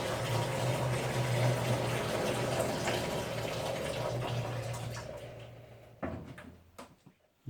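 Water pours from a 5-litre jug into a bin in a steady, close gush that rushes for about six seconds, then stops abruptly, followed by a few faint drips and knocks.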